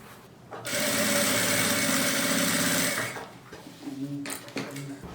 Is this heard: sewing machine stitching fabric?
yes